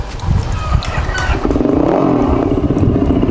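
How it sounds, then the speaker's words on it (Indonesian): A Fiido electric bike's sound booster plays a simulated motorcycle exhaust, a loud, close synthetic engine rumble that rises into a steady revving drone after a brief clatter. "ini adalah switch untuk menyalakan sound booster atau suara knalpot"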